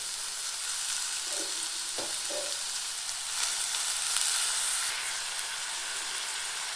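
Fenugreek leaves frying in hot oil give a steady, moderately loud sizzle, with brief stirring scrapes near the start and bursts of hiss midway; no one speaks.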